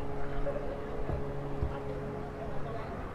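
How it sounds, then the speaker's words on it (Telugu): A country boat engine in open air, a steady low mechanical drone with harmonic hum running continuously as it starts and idles, with a couple of brief knocks; a voice talks faintly nearby. "ఇదిగా ఇది స్టార్ట్ అవుతుంది బోటు"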